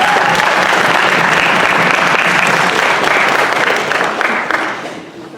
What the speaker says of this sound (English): one more round of applause for everyone who participated